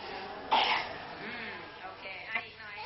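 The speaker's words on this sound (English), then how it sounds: "A cough," A single short, rough cough bursts out near the start, followed by a faint second throat sound, close by.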